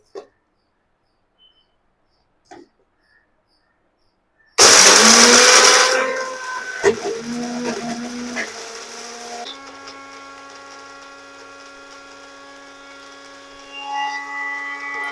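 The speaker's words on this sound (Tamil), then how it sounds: "இப்போ இது எல்லாத்தையும் மிக்சியில் போட்டு நல்லா நைஸாக பொடி பண்ணிக்கலாம்" After a few seconds of near silence, a mixer grinder bursts on loudly, grinding roasted spices for tamarind rice paste, then settles into a steady high whirring hum.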